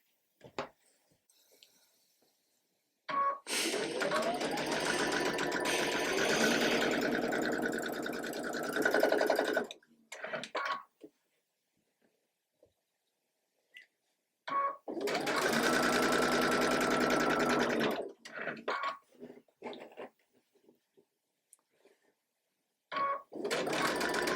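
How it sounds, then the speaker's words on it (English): A sewing machine stitches a quilt block row in two long, steady runs of rapid, even whirring, separated by quiet pauses with small handling clicks. "I'm going to sew this one on so that it looks like this."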